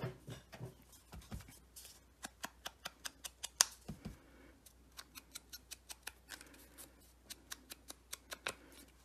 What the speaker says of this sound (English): And go ahead and cut that across.